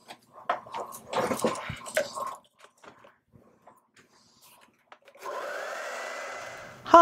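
A hair dryer blows steadily over a wet acrylic painting for about two seconds near the end, a loud even whoosh, preceded by scattered soft handling and brushing noises.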